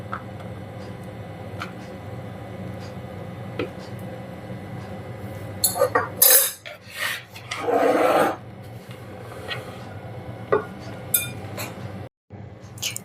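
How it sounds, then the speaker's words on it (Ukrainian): Chunks of hunting sausage drop into a bowl with other salad ingredients, a brief rustling scrape and soft clatter, then scattered clinks from the bowl, close and moderately loud. "І вкидаємо в миску до всіх інших продуктів."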